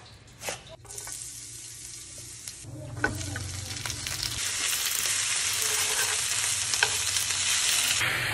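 Carp fried quickly in a pan for a sour pickled carp stew, a steady sizzle that grows louder over several seconds, with scraping stirs and clatter near the start and no talk.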